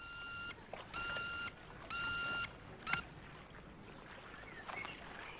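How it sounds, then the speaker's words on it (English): The electronic bleeper gadget from the Bond film From Russia with Love gives three loud, sustained high-pitched beeps at steady intervals, then a short blip, heard alone with no talk. "there's this one here, which is the bleeper, which was used in Russia with Love."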